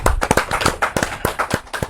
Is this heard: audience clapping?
yes